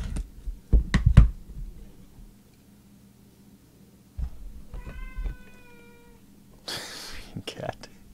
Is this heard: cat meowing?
yes